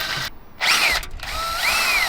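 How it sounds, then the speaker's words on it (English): A power drill bores slowly through metal while fitting a tucked battery relocation mount in a Nissan S-chassis car, giving two nearby whining bursts with rising and falling pitch and a brief pause between them. "Maybe if I go slow and just let the drill bit do the work."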